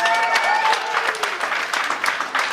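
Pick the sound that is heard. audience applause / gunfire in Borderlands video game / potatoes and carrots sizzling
audience applause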